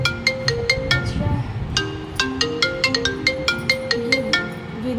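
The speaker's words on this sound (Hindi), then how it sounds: "ये विनय भैया का फ़ोन क्यों आ रहा है?" A phone ringtone plays a repeating electronic melody for an incoming call, loud and close, with regular bright chiming notes over a low household hum.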